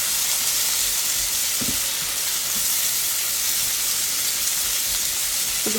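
Onions and mushrooms sauté in a pan for hamburger steak gravy, giving a constant, even sizzling hiss with a few soft knocks of utensils, close and steady throughout.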